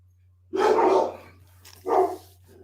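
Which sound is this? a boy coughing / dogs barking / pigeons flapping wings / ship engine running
dogs barking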